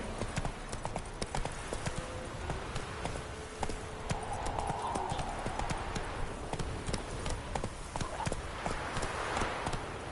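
Roach the horse gallops in The Witcher 3, a steady rapid clip-clop of hooves running on and on throughout, with a rider's brief urging calls now and then over the rhythmic pounding.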